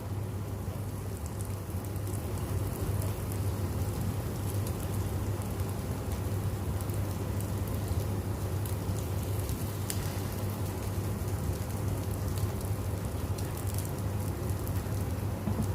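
Bread cooking in a covered pan over very low heat gives off a steady, soft sizzling hiss with fine crackles, like light rain, continuing evenly throughout with no voices.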